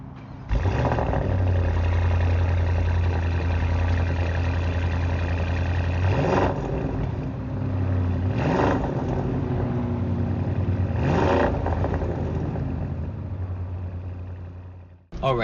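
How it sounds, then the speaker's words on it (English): A 2021 Audi SQ8 engine idles with a loud, steady rumble, then is revved three times in distinct surges that rise and fall back to idle, close by and alone. "So now let's hear how the engine sounds."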